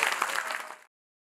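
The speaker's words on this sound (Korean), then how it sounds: "다들 박수 한번 해주세요." An audience at a Korean cinema screening of the film Taxi Driver applauds in a brief, dense burst of clapping that fades out within a second.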